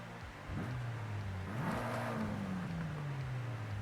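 A sports car engine in Forza Horizon 5 idles, then revs up sharply and slowly winds down, a throaty sound heard close up without speech.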